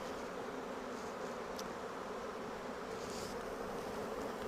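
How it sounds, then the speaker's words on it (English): Honeybees buzzing in an opened hive during spring inspection, a dense, steady drone of many wings close by, continuous throughout with no talking. "can hear the tone of the bees change again"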